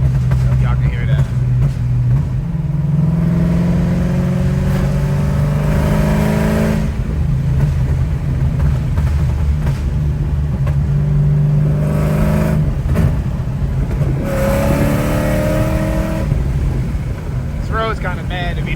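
Cammed Cadillac CTS-V fitted with Stainless Works mufflers rumbles loudly nearby, with several throttle blips and revs rising and falling over a constant deep idle, and someone talks in between.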